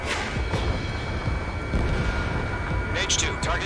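A missile explodes in Ace Combat 7 on Xbox Series X: a dense, roaring blast and rumble with sharper bursts near the end, under a voice.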